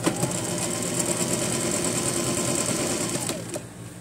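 A sewing machine runs continuously as it topstitches a seam on a skirt, producing a fast, even, rattling hum close by that slows and stops near the end.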